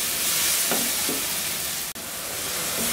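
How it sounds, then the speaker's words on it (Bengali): Tomato frying with salt in a pan over high heat gives a steady, loud sizzle with a few brief stirring scrapes, with no voice over it. "সাথে একটু লবণ দিয়ে এই টমেটোটাকে ভেজে নিব, কিন্তু টমেটোটা যাতে না গলে, সেই জন্য হাই হিটেই ভাজতেছি।"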